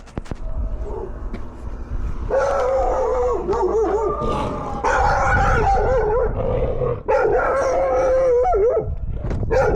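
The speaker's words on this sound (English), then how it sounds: "There's a dog that tried to attack me." An aggressive dog barks and howls loudly and close by, in long repeated snarling outbursts, with a delivery driver's voice faint underneath.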